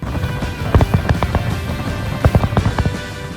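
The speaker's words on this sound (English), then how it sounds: "For a small town, Idaho Falls has an incredible fireworks show." A fireworks show in Idaho Falls pops and crackles, with many sharp bangs in quick irregular bursts over a steady rumble, loud and without talk.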